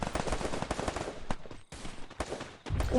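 Rapid automatic gunfire in the Free Fire video game during a team battle, dense crackling bursts of shots in quick succession, loud and nearly continuous with a short gap midway.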